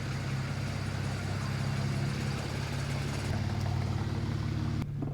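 A BMW 335i with new spark plugs and a new valve cover, its engine running steadily as a low, continuous hum that shifts pitch slightly, close and even, with no talk.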